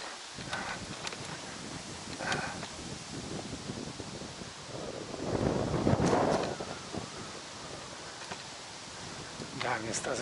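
Wind blows over a reservoir among steep wooded banks, with steady outdoor wind noise and microphone buffeting that swells in a loud gust midway.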